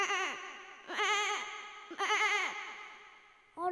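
A man imitates a goat bleating in a village style, giving three wavering, nasal bleats with pauses between them and the start of a fourth at the end, loud and close with no other sound.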